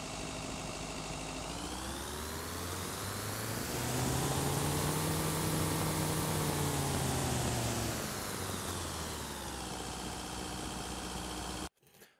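Adaptive car engine sound in an FMOD demo sweeping up through the RPM range and back down, a smooth continuous rising-then-falling drone that cuts off abruptly at the end.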